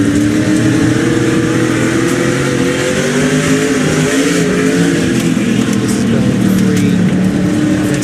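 An SRX race car engine roars continuously from an in-car view on the Eldora Speedway dirt track, a loud, steady drone with shifting revs and no pauses.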